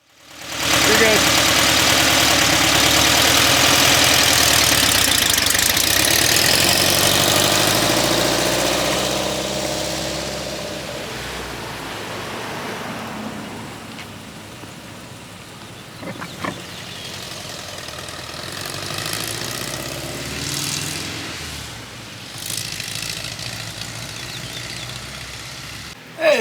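A Cummins 5.9 diesel engine fitted in a 1973 VW Thing idles with a loud, steady rumble and clatter that eases down midway and carries on more quietly with some knocks.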